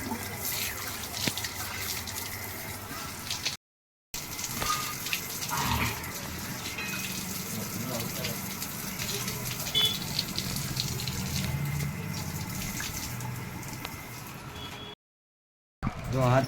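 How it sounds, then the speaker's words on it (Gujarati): Hot water gushing steadily from a tank tap as hands and feet are washed, a continuous splashing flow with two short silent gaps. "અહીંયા આવે છે અમારા ટાંકાનું જો ગરમા ગરમ પાણી,"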